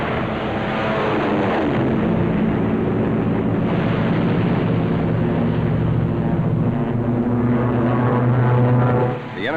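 A WWII fighter plane's propeller engine drones loud and steady during a strafing run over enemy picket boats and supply ships, with a rumbling roar throughout, swelling near the end and then cutting off abruptly.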